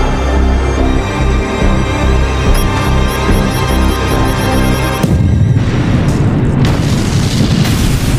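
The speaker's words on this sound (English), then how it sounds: "I heard the explosion." A loud boom of an explosion in a sci-fi battle, bursting in at about five seconds on top of a steady droning hum, with a broad rumbling wash that lingers and swells briefly again near the end.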